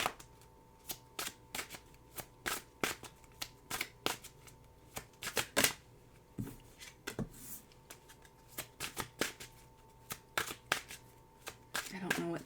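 Tarot cards are shuffled by hand in repeated crisp riffling bursts, close and fairly quiet, with pauses between, while a person talks softly in the background.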